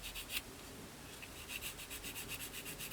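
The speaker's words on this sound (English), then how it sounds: "I'm just going to gently start sanding those belts away" A skinny sanding stick gently rubs detail off plastic Airfix 1/72 Jet Provost kit parts, making soft, rapid, rhythmic scratching strokes up close at a low level.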